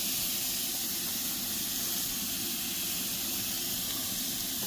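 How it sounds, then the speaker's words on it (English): Baby back ribs sear on a hot Blackstone griddle, giving a loud, continuous sizzling hiss that stays steady and close throughout without a break. "Sear this down, and then we'll turn it down on low and cook it for a couple hours"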